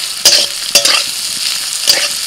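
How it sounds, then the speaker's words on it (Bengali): Bitter gourd and potato frying in a pan, a bright steady sizzle with three sharp scraping stir strokes, close and loud. "আমি এই করলা আলুটা ভাজবো।"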